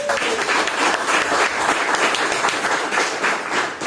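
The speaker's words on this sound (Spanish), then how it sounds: "Un fuerte aplauso al Señor." A church congregation breaks into steady applause, a dense, moderately loud patter of many hands clapping with no break.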